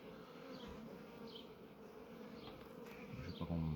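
Honey bees hum and buzz around an open Kenyan top-bar hive, a low continuous drone with individual bees passing close now and then, faint and alone.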